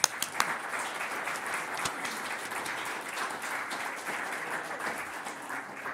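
An audience applauds steadily for about six seconds, a dense, even wash of many hands clapping to welcome Mitchell Adams at a Massachusetts Historical Society event.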